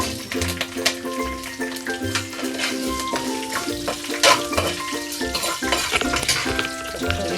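Green chillies going into a hot frying pan set off busy, continuous sizzling with clinks of a spoon or spatula against the pan, loud and close throughout with no talking.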